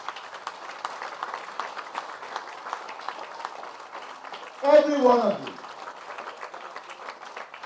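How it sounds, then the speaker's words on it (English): An audience honours healthcare workers at a public event in Lethem, Guyana, with a round of applause, a sparse, steady rattle of many hands that continues under a voice speaking briefly through a microphone. "I want us to give them a resounding round of applause"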